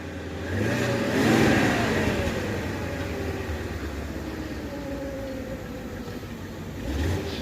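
A BMW E38 engine, warmed up and puffing white smoke from the exhaust, revs up once, then settles into a steady idle hum with another brief rise at the end, with no talking.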